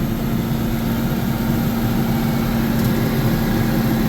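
A tractor engine holds a steady, loud, even drone at roughly 540 rpm, with a sustained hum and no breaks or voices.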